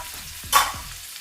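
Onions and chillies fry in a pan for Telugu gongura rice, a brief soft sizzle with a short louder hiss of stirring in the middle and faint scraping knocks around it.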